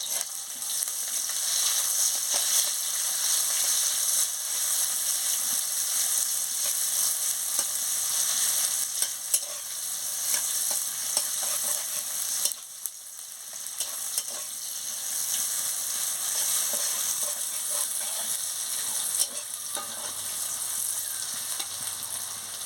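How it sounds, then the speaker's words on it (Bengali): Chopped onions sizzle steadily in hot oil in a pan, with intermittent scraping and clattering as they are stirred, close and continuous with no talk. "পেঁয়াজের কুচিটা দিয়ে দিচ্ছি।"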